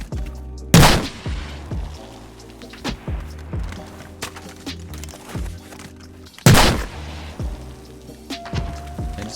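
Rocket launches in the shooter Battlefield 4: two loud blasts with booming tails, several seconds apart, over steady backing music and lighter game sounds.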